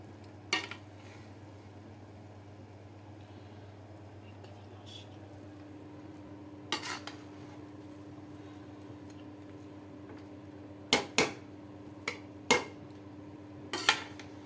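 Rice being served from a pot of chicken degi biryani, with occasional sharp scrapes and clinks of a metal spoon against the pot over a steady low kitchen hum, spaced irregularly, a cluster near the end.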